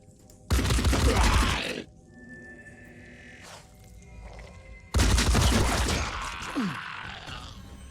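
Gunfire in the tactical game Phoenix Point erupts as two loud, close bursts of shots with booming tails, separated by a quieter stretch of faint tones and rumble.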